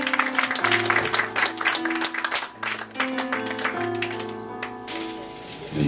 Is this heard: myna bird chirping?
no